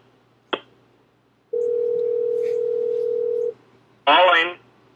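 A steady telephone dial tone hums alone for about two seconds, framed by short clicks and a brief burst of a voice.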